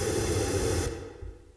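Pink noise through a short room reverb: a broad hiss cuts off abruptly and a brief, quickly fading reverb tail follows, with no talk over it.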